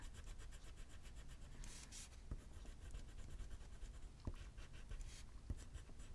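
A white colored pencil pressed hard against paper while coloring makes a continuous quiet scratchy rubbing, with repeated strokes and a few sharper ticks.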